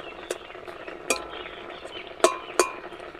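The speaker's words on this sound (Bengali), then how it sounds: "এখন আমি কি করব, খুন্তির সাহায্যে এগুলোকে আরেকটু ছোটো ছোটো করে কুটে দেবো" A metal spatula chops boiled raw green mango in a pot of water, giving four sharp clinks against the pot. The strikes are irregular and spaced apart over a quiet background.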